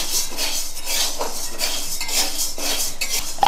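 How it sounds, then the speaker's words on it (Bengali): Sago pearls being stirred in a metal wok, a fairly loud run of repeated scraping and clinking strokes in a steady rhythm, with no talking. "আমি সাবুগুলো নাড়াচাড়া করছি।"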